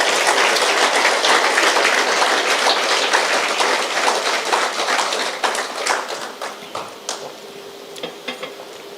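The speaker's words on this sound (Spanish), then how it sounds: "Denle un aplauso al Señor." A church congregation applauds during a sermon. Dense, loud clapping is sustained for several seconds, then thins out into scattered fading claps, with no voices.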